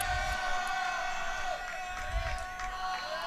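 Crowd noise at a high school varsity baseball game between Archbishop Mitty and Valley Christian, with fans cheering on a batter; a steady, distant wash of voices and whoops with faint shouts, continuous throughout.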